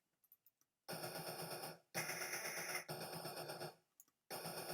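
Gunfire in the Rambo: First Blood Part II video game on the Amstrad CPC: harsh, crackly bursts of rapid-fire noise in several separate blocks, each lasting about a second, with short gaps and faint ticks between them.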